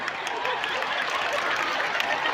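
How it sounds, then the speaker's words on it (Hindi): Students in a large audience at a Swami Vivekananda Jayanti event clap steadily, a dense, continuous wash of applause filling the hall. "देखो नाश्ते में ताली बज रही"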